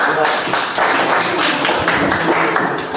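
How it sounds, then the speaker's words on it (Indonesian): Students applaud in a classroom during an Indonesian-language teaching practice lesson: dense, steady clapping from a group fills the whole stretch at an even, fairly loud level. "Oke, silakan dulu tepuk tangan."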